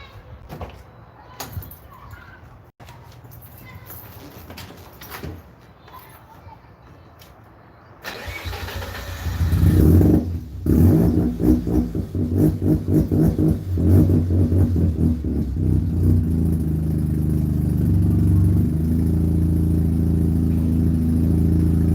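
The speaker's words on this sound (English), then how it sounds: "I will start up the convertible, which is honestly the least powerful car here." A freshly rebuilt convertible car engine cranks and catches after a quiet stretch, then settles into a loud, steady idle with slight revs and uneven pulsing, close by.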